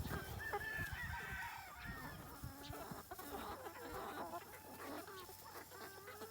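Free-range chickens and a rooster on a two-acre homestead cluck and squawk in overlapping bursts, fairly faint and busy, with insects buzzing in the background.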